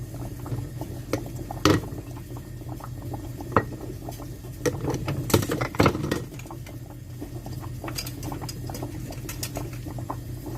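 Broth boiling hard in a big stock pot, with steady bubbling and irregular louder pops and splashes throughout, close and alone.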